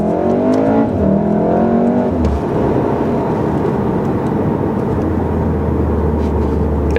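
A 2018 Volkswagen Golf R launches into traffic, its engine note rising steadily before shifting into a sustained, loud roar of acceleration heard from inside the car.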